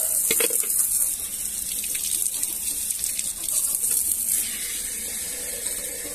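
Water runs steadily from a tap with a bright, hissing splash, continuous and close, without any talking.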